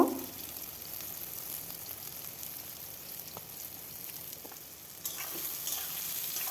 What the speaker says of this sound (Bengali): তেল গরম হলে সয়াবিনগুলো আমি ভেজে নেব